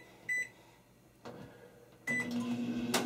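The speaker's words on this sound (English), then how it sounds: "typically you would put this in the microwave for 35 seconds to" A microwave oven is set to melt butter. Short electronic beeps from the keypad are followed by the low hum of the oven starting up, all close and alone.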